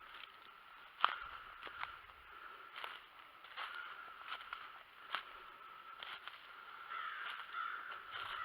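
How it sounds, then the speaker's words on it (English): A crow caws in the woods, with several sharp calls at irregular intervals over a low, steady outdoor background; one call near the start stands out louder. "There's a crow flying through the woods."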